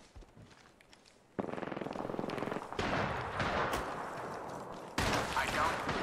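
Gunfire in a team shooter video game rings out as bursts and rapid strings of shots, quiet at first, then loud, dense firing from the middle of the clip onward, with voices talking over the action.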